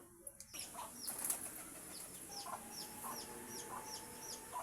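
Repeated bursts of wings flapping, several pigeons taking off and fluttering close by at feeding time, with soft cooing and clucking from fowl in the background.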